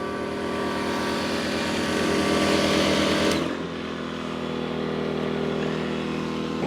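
A Bilt Hard 2500W inverter generator powering an air compressor gives a loud, steady mechanical drone with a pulsing low hum. Partway through, the pitch and tone drop suddenly as the load shifts, then the machine settles into a lower, even run.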